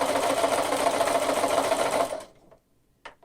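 Sewing machine fitted with a walking foot, stitching binding onto a quilt: a fast, steady mechanical whirring run that stops abruptly after about two seconds, followed by near silence and one small click.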